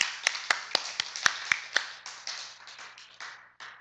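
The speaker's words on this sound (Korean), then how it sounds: "우리에게 죄 사함 주신 예수님께 감사의 박수 한번 보내야 돼요" A church congregation claps during a Sunday service, sharp hand claps ringing out at first and then thinning into a brief, fading patter of applause that lasts only a few seconds.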